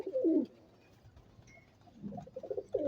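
A fancy breeder pigeon held up for show gives short low coos in two close bursts, at the start and again near the end, with quiet in between.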